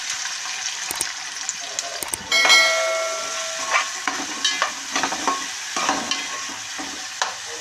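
Green chillies dropped into hot oil in a home kitchen pan burst into a sudden loud sizzle and crackle, followed by intermittent spatters and stirring scrapes close by, with faint background noise.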